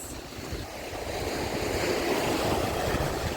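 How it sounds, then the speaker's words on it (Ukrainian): Sea waves break on the Langeron shore in Odesa at dawn, a steady wash of surf with a gradually building roar, mixed with wind buffeting the microphone, continuous and fairly close with no talking. "Море хвилюється."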